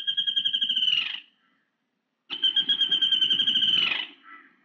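Bird known locally as vadla pitta calling in two loud, close bursts of rapid, pulsing high notes, the first about a second long, then a pause and a longer second run of about two seconds.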